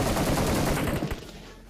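Rapid automatic gunfire rattles in PUBG Mobile, a dense, loud burst of close shots that fades out toward the end.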